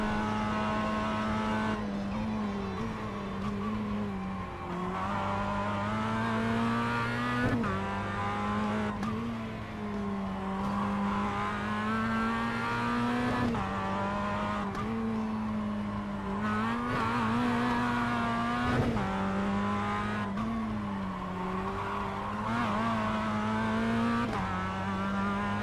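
A Mazda MX-5 racing at Suzuka in the iRacing sim, its engine a steady buzzing drone that climbs through the revs, drops at each gearshift and climbs again, loud and continuous with no talk.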